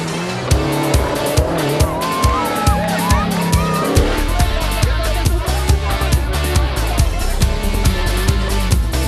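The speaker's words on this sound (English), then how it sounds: "the cars were now in the final 2 stages of the rally, with the last 36 kilometers all on the edge of the Kerio Valley" Rally cars race through stages on the edge of Kerio Valley in the Biashara Banking Rally, engines revving with tire squeals and skids, loud and close beneath backing music.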